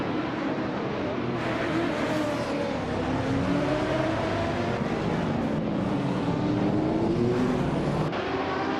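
Race car engines in a racing video game, including a vintage 1993 Venturi 600 LM, roar continuously with rising and falling revving tones layered over each other, loud and sustained.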